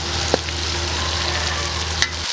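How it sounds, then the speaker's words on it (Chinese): Chili paste stir-frying in a hot wok, a steady close sizzle with a couple of brief scraping stirs, no talking. "这样我们就可以下入辣椒，下入1勺的那个18辣椒，给它炒。"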